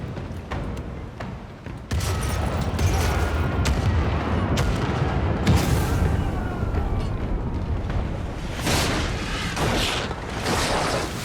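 A ship fires its starboard cannons in a naval video game battle, heavy booms and rolling blasts one after another over a dense rumbling din, loud and continuous.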